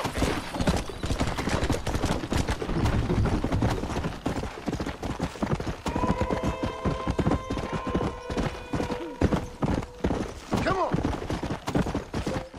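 Horse hooves clip-clop at a steady trot in the Red Dead Redemption video game, close and continuous throughout, with scattered gunshots and a voice speaking in places.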